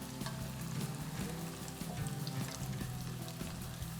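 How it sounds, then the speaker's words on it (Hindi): Croutons frying in a pan of oil for a cream soup give a steady, dense crackling sizzle that holds evenly throughout, with no talking. "ये देखें कितनी जल्दी जल्दी से ये फ्राई हो रहे हैं और क्रिस्पी हो जाते हैं ये बहुत ज़्यादा।"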